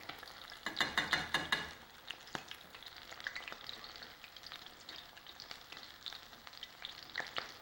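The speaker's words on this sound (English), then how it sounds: "All you want to do is fry the tortillas to give it some crunchiness." Tortillas frying in oil for tacos, a close crackling sizzle that flares into a loud burst of spitting early on, then settles into a steady pop-flecked hiss, no voices.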